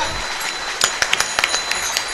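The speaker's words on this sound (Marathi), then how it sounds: "टाळी टाळी" Congregation at a Marathi kirtan in Udapur clapping, a few sharp, separate hand claps at an uneven rhythm over a steady background hum, fairly close and moderately loud.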